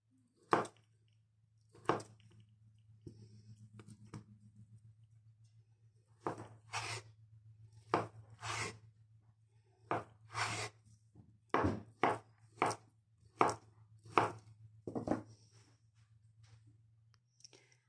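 A knife chops potatoes into cubes on a board, giving a series of sharp, close taps: a few spaced cuts at first, then a steadier run of chops, under a constant low hum.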